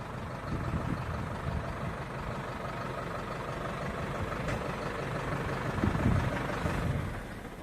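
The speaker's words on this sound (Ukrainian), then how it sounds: "Тракторець це" A small tractor engine idles with a steady low rumble and faint mechanical chatter, holding an even level with a slight swell near the end and no talking.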